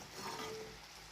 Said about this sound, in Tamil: இப்படி இந்த மாதிரி நல்லா பபுள் வர அளவுக்கு நல்லா கொதிக்க வைக்கணும்